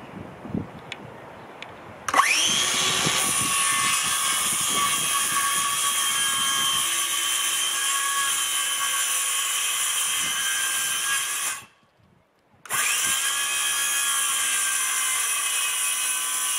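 A power tool cuts wooden boxing for covering radiator pipes outdoors, spinning up to a loud, high, whining drone that holds steadily, stops abruptly for about a second, then resumes just as loudly.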